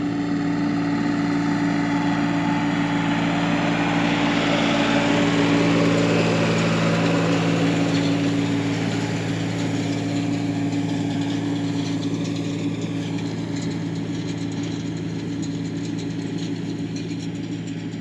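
Farm machinery rakes cut hay in a field, a steady, continuous engine drone with a mechanical whir that holds level and close for the whole stretch, with no voices.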